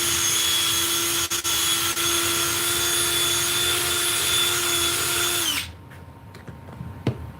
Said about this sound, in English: And I'm going to drill it out enough